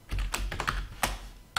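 Quick bursts of clicky keystrokes on a computer keyboard as a firmware image name is typed while setting up a Cisco Aironet 1850 series access point, close and alone with no voices.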